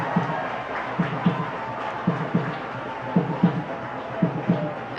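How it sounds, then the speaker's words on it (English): Dhol drums pound in a cheering crowd at a Davis Cup tennis match, a steady pattern of muffled beats in pairs under the general crowd noise, with commentary voices over them. "The dhols are getting louder now."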